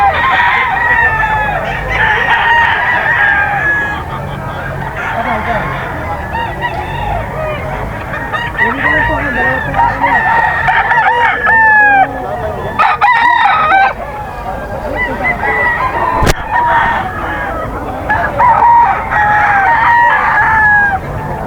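Gamecock bull stags and roosters, about fourteen months old, crow repeatedly and cluck at a breeder's sale, loud and close, with several overlapping crows and people talking nearby.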